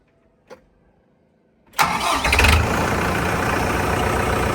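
After a quiet click, a tractor's diesel engine, a DMTZ 244X, cranks and catches, then settles into a loud, steady idle rumble.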